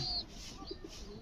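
A pigeon gives a few soft, low coos, faint and close, with a brief higher chirp at the start over quiet background hiss.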